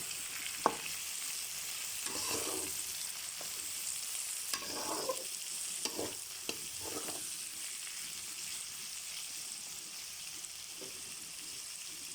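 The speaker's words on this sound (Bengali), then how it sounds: "এখন পেঁয়াজটা দিয়ে দেবো পেঁয়াজটা দিয়ে এখন ভালো করে ভেজে নেবো" Chopped onion sizzles in a hot pan alongside half-fried bitter gourd and hyacinth bean seeds, with steady frying hiss broken by occasional scraping stirs of a spatula; no talking.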